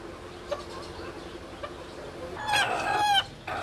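Silver and golden Sebright and black-tailed Japanese bantam chickens cluck softly at a fancy hen farm in Faisalabad, with a brief louder burst of clucking near the end over a quiet background.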